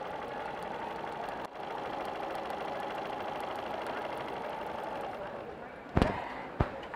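A sewing machine stitches the rest of a curved fabric seam, giving a steady, close mechanical whir that runs continuously before a couple of sharp knocks near the end.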